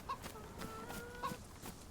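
A chicken in the video game DayZ, set in Livonia, clucks in a few short, faint bursts over a low ambient background, with no talking.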